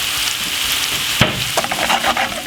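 Summer vegetables stir-fry with salt, pepper and mixed herbs, sizzling steadily in the pan. A sharp clack and then repeated scraping stirs break through the frying hiss.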